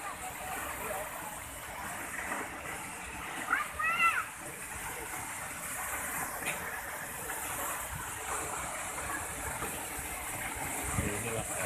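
Rushing water from Sikulikap waterfall near Berastagi in Karo forms a constant broadband hiss, moderately distant and steady throughout, with faint outdoor sounds and a brief chirp on top.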